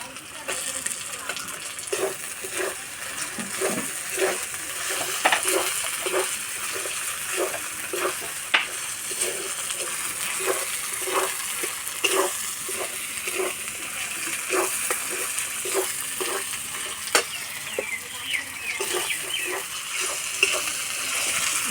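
Chopped tomato sizzling in a hot pan while chicken is cooked, a steady bright frying hiss with regular scraping stirs throughout, close and continuous.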